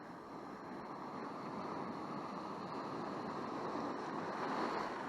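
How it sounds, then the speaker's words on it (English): Sea swell washes against rocky shoreline on a UK coast, a continuous broad rush of surf mixed with wind buffeting, fairly faint and steady, slowly building toward the end. "That swell's picking up, but it's still beautiful."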